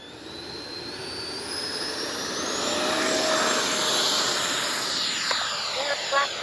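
A Freewing 90mm T-45 Goshawk radio-controlled jet spools up for takeoff, its ducted-fan motor producing a loud, steady, rising whine that swells and then holds, with a few sharp clicks late on.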